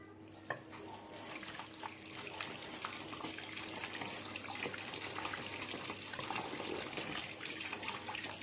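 Hands are rinsed under a running tap in a handwashing demonstration, with a quiet, continuous stream of water splashing into a sink and no voices.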